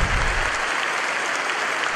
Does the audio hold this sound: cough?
no